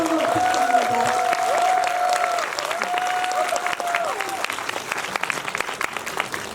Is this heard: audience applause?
yes